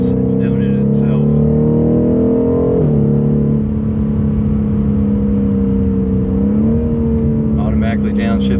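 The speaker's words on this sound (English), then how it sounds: "Here it downshifts for me automatically." A BMW M850i's engine revs loudly and steadily, its pitch stepping down twice as the automatic gearbox downshifts on its own, with someone talking over the drone throughout.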